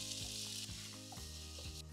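Onion and tomato frying in a pan with ground coriander, cumin powder and chilli powder, a steady close sizzle with periodic stirring scrapes throughout, no talking.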